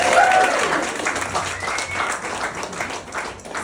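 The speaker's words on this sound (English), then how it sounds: "I just want us to have another round of applause for the first half." An audience at a stand-up comedy show claps steadily in dense, close applause that runs the full few seconds, with some cheering mixed in.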